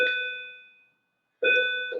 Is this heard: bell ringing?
yes